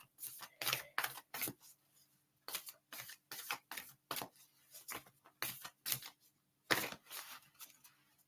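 Oracle cards being handled and shuffled, a quick series of crisp riffling and slapping bursts in short clusters separated by brief pauses, close and fairly quiet with no talking.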